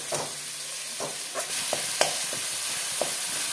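Masala with tomatoes and salt frying in a pan, a steady close sizzle broken by repeated scraping strokes of a stirring spoon at irregular intervals.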